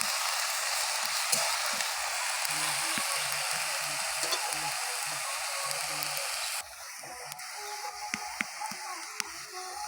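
Flowers sizzling and frying in a hot pan in a village kitchen, a steady broadband hiss with faint stirring clicks, the sizzle dropping slightly in intensity partway through.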